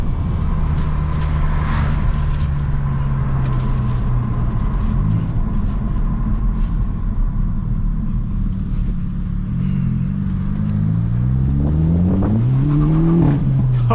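Hyundai Elantra N engine droning loudly from inside the cabin, a steady low rumble holding for several seconds before revving up with rising pitch near the end, no talk over it.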